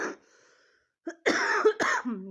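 A short cough, a pause, then a burst of harsh, close coughing in two or three quick fits.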